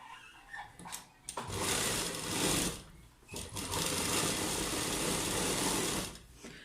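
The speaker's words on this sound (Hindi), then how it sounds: "इसके ऊपर हम इस तरह सिलाई लगा देंगे।" A sewing machine stitching the lining of loose palazzo pants, running in long, loud, continuous bursts with short pauses between them, close up and with no talking.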